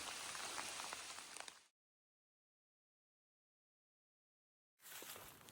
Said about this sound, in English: it just started to rain a little bit